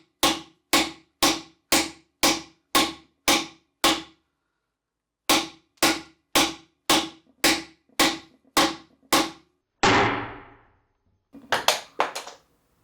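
A 3D printed hammer strikes repeatedly in two quick, evenly spaced runs of sharp, loud knocks, followed by a longer scraping crunch and a final rattling clatter; no voices.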